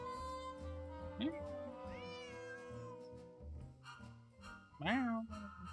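A cat meows twice in the Nancy Drew game Secret of the Old Clock, each meow a clear rising, wavering cry, the second louder, over steady background music and ambient tones.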